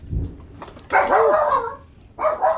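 A dog barks and yips in short bursts indoors while thunder rumbles during an approaching storm, the barks loud and close with a brief pause between volleys.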